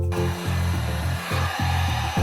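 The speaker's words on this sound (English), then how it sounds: "using a heat gun to loosen the hot glue holding the 2 parts together" A heat gun runs steadily while loosening hot glue on 3D-printed headphone cups from a Grado SR80 mod, giving a continuous close whirring blow with rhythmic scraping or rubbing pulses underneath.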